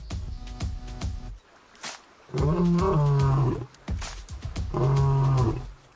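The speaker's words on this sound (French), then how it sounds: "Le mâle passe sa journée à rugir pour affirmer haut et fort sa suprématie." Male lion roaring in two long, deep, powerful bouts, each built from rising grunting pulses, loud and near with short low breathy sounds between them.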